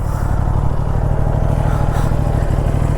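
A 2024 Aprilia RS457 motorcycle engine with an underbelly exhaust idles up close with a steady, lumpy low rumble and fast rhythmic pulsing, running alone without pause.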